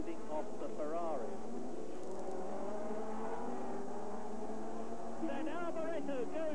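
Formula One cars racing at Imola in 1987, engines whining and rising in pitch as they pass, under continuous commentary.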